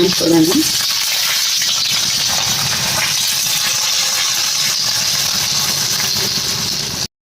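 Oil crackles and sizzles steadily as tempering spices fry for an ivy gourd stew, a continuous close hiss with a brief stir at the start and no talking.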